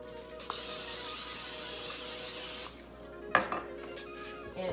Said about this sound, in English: So we're just going to spray that with our cooking spray.